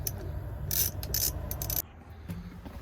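Screws being backed out with a compact torque-bit set while working on an old cabover truck: close mechanical ratcheting and scraping with a steady low rumble, a few bright clicking bursts, then quieter tool handling.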